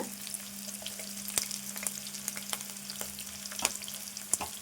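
Onions and green chilies sizzle steadily in a pan for aloo pulao, a soft continuous frying hiss broken by occasional crackles and light stirring clicks.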